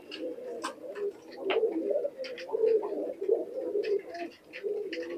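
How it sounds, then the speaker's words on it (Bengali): Pakistani high flyer pigeons coo repeatedly in a loft, a steady chorus of low throaty calls with scattered sharper chirps and wing or movement sounds over it. "কত সুন্দর কবুতর।"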